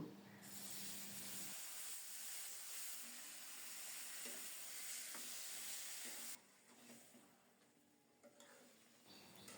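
Crushed garlic fries in hot oil for a spinach and potato dish, a steady close sizzle with occasional stirring scrapes that drops quieter partway through.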